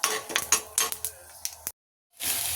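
Peanuts are stirred into sizzling tempering seeds in a pan for atukula upma, with a rapid run of close metallic spoon scrapes and clinks, a brief silence, then a steady sizzle.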